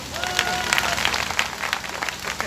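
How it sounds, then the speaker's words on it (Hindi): Women in a seated audience at a religious talk applaud, a crowded patter of clapping in a large reverberant hall, with some crowd murmur and a faint tonal voice underneath. "भाई अब महिलाएं इनके लिए तालियां बजाएं।"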